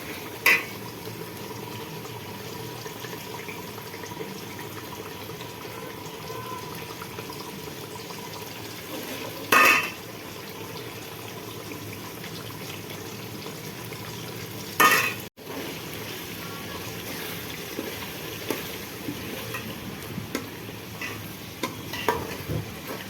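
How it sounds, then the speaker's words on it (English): Onions cook in oil in a pan for a chicken curry, giving a steady, soft sizzle and crackle throughout, broken by a few brief clinks and stirring scrapes. "cook it for about 5 minutes so that the oil releases from the onion"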